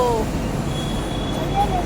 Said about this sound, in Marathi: ह्या मेट्रो ट्रेन मध्ये आम्ही बसलेलो